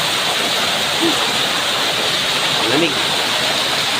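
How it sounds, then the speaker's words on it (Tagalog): Heavy afternoon rain pouring down outdoors near a parking area, a dense, steady roar of falling water throughout, with brief speech over it. "Lakas ng ulan sa hapong ito."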